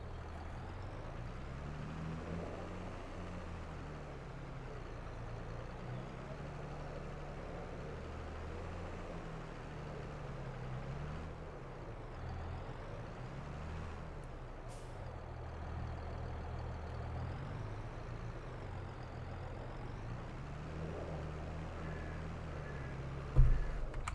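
A plow-equipped vehicle pushes through deep snow in Farming Simulator 22, its engine drone steady and labored, the low rumble rising and falling with strain while faint hiss and air-brake sounds sit above it, ending in a brief sharp knock.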